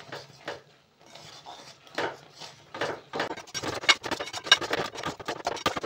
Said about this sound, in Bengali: এটা নেড়ে চেড়ে খুব শক্ত একটা ডো তৈরি করব